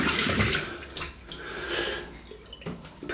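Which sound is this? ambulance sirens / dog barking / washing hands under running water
washing hands under running water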